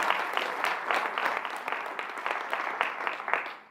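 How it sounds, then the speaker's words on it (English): An audience at an ActionSA political event in South Africa claps continuously, a dense patter of hands at moderate volume that fades slightly at the end. "Please give her a round of applause."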